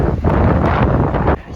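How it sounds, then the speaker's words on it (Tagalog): Strong wind roars loud and close during a wet snowstorm in Toronto, a dense steady blast that buffets the microphone and drops off sharply at the very end. "Tapos malakas pa ang hangin."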